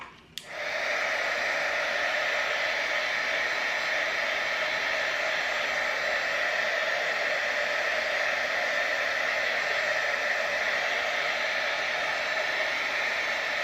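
A heat gun warms a WoodUbend moulding on a bench makeover. After a brief click, it starts up and roars as a loud, steady blowing hiss that holds unbroken for over thirteen seconds, with no talking.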